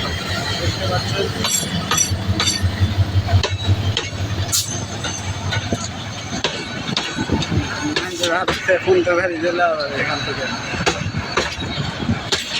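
A train crossing a bridge with a steady rumble and intermittent clanks and squeals of wheels as it slows, heard under people talking nearby throughout.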